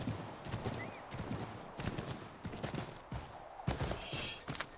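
Horse hooves gallop cross-country in Assassin's Creed III, a quick rhythmic clip-clop of thudding beats that carries on steadily, close and fairly loud, with a brief high chirp near the end.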